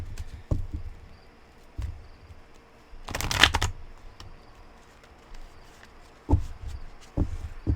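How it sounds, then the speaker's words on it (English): A deck of cards being shuffled in close, crisp riffling bursts, one loud flurry in the middle and shorter ones scattered around, with quiet pauses between. "Plus these cards shuffling"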